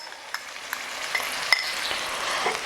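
Ginger chili paste, Kashmiri red chili powder and pav bhaji masala fry with half-cooked pav bhaji vegetables in a pan, giving a steady soft sizzle with a few light clicks of a spoon, no voices.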